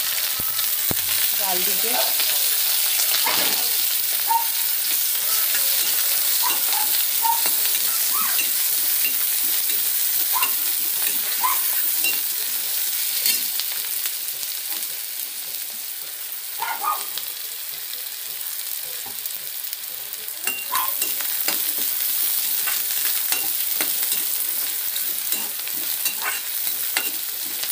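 Onions sizzle and fry steadily in a pan while being stirred, with occasional scraping clinks, a continuous loud hiss throughout and a brief spoken word near the start.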